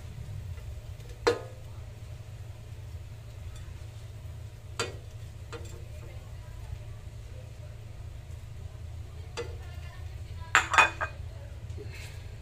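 Fried tofu being lifted out of a pan brings a few scattered metallic clinks of utensil on cookware, sharp and close, spread apart over a low steady background hum.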